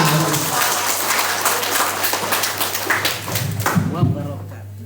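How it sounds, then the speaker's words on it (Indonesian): A room of teachers at a school in-house curriculum training session claps steadily in a dense, even patter, with voices talking over the applause throughout and a low electrical hum underneath. "tepuk tangan dulu kita semua"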